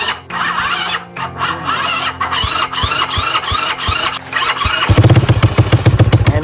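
A mini bike's small engine cranks with whirring, sputtering strokes, then catches and settles into a rapid, loud chugging idle up close.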